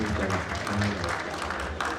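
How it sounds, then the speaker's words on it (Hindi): Applause from an audience at an Aam Aadmi Party Rajasthan political gathering, welcoming a speaker to the stage, a steady clatter of many hands with a voice talking over it. "जोरदार ताली से, ताली की आवाज कम है, जोरदार ताली से स्वागत"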